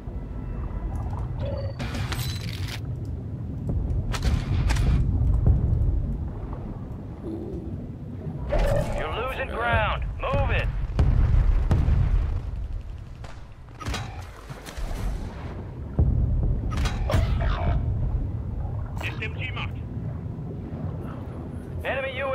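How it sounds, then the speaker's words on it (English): Friendly mortar strikes in Call of Duty Warzone Resurgence land as repeated heavy booming blasts with rumbling tails, spread over about twenty seconds amid game noise and wind, with occasional voices. "Friendly mortar strike inbound."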